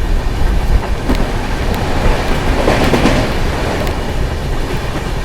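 Aravali Express, train number 14701, pulling into a station behind a WAP7 electric locomotive: a loud, continuous rumble of rolling wheels with rhythmic clickety-clack over the rail joints, heard close by with no talk.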